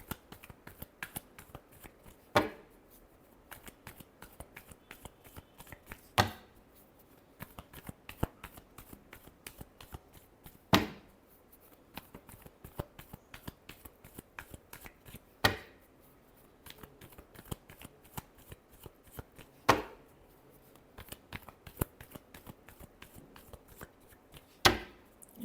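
Tarot cards are shuffled again and again, with crisp riffling bursts and sharp slaps at intervals of a few seconds, close and alone with no talk.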